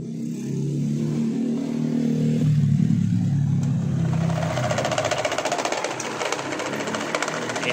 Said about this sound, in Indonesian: Selanjutnya coba kita menggunakan kipas angin baling-baling bila 1 seperti ini ya.